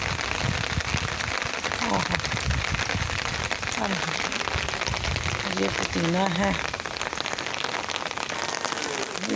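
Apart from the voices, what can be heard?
rain falling on plants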